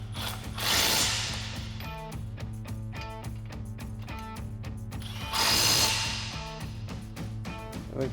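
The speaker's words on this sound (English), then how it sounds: "We'll tighten these back down with our 21mm socket and swivel." A ratchet with a 21mm socket and swivel tightens bolts on a RAM 1500 TTX front lower control arm, giving rapid, evenly spaced metallic clicks in close, clear bursts with short pauses between.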